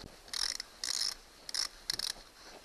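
Socket ratchet working a bolt loose counterclockwise on an outboard motor, giving four separate bursts of quick mechanical clicking, each under half a second, close by and alone with no talk.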